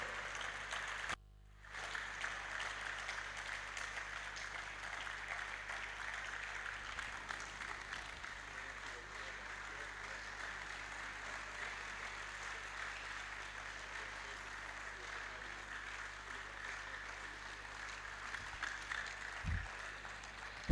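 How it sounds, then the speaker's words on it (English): An audience claps continuously at a Rotary International RYLA event, a steady, dense wash of hands that holds at an even level for the whole stretch, with a brief dropout near the start. "Let's keep clapping our hands till he gets here"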